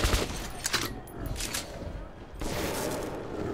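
Shotgun fire in the video game Metro 2033, several heavy booming blasts at irregular intervals, loud and close, with game noise in between.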